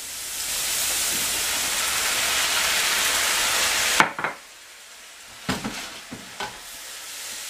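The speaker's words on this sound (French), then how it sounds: "On va remuer, et on va laisser cuire ça à feu doux pendant environ 25 minutes" Chicken sizzles steadily in a pan with white wine for about four seconds, then the hiss cuts out and a few sharp scrapes and knocks of stirring follow against near quiet.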